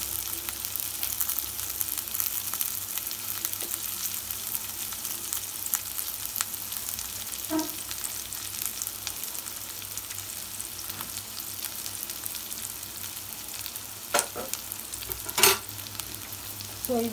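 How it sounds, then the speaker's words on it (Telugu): Flattened rice (poha) fries in a pan for poha biryani with green chillies, giving a soft continuous sizzle with occasional scrapes of stirring, close and steady, with no talking. "సో ఇది కొంచెం మనకి బ్రౌన్ కలర్ లో ఫ్రై అవ్వాలి"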